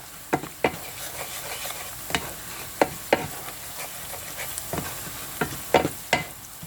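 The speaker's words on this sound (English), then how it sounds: "Give a good stir" A spoon stirs ingredients in a pot for baked eggplant with marinara sauce, knocking and scraping in a run of sharp, close clicks at an uneven rhythm over a soft sizzle.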